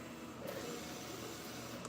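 An X-Tool apparel printer, one that keeps failing, runs its cutting stage with a steady mechanical whir and hum, close and continuous, with a slight change in tone partway through.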